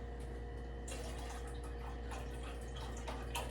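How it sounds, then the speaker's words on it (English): Chicken broth poured from a container into a pot for stew, a steady close liquid trickle and splash with small drips, running continuously without talk. "I'm just gonna go and add my chicken broth."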